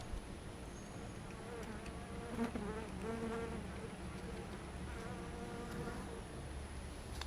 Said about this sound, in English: There's probably bees all up on top of the top bars.